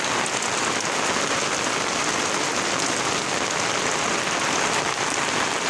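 Heavy rain pours steadily outside a home with a leafy garden of plants, flowers and lemon trees, a dense, even hiss of drops drumming on surfaces that never lets up, with no voices.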